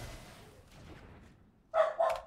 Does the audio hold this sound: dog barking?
yes